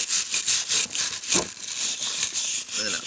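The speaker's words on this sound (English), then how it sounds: "I think the back might need a little bit of scrub" Rhythmic scrubbing strokes on the back of an object, steady rough rubbing repeated in quick bursts, close and fairly loud, with a brief voice-like sound partway through.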